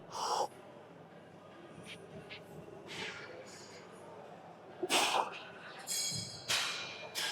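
A sharp deep breath drawn in before taking a shot, standing with feet even, among voices and brief gasping bursts in an outdoor spot in Frankfurt, Germany.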